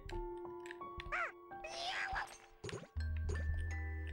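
Bell chimes in the Dual Hearts video game, a run of bright, tonal dings rising step by step amid game effects, followed by a sustained low tone at the end.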